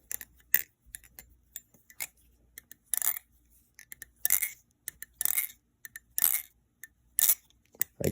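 Olympus Industries Prime being flipped, a series of sharp metallic clicks and snaps in an irregular rhythm, close up and crisp, with louder clacks every second or so.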